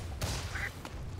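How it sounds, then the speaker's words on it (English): Short squawking fowl calls, duck- or chicken-like, from a Sniper cosmetic in a Dota 2 match, rising briefly over steady game ambience and lasting about a second. "I am hearing these chicken sounds from the Sniper cosmetic"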